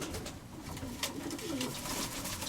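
A pet pigeon gives quiet, low cooing notes that swell and fade over a soft background hiss, with no one speaking.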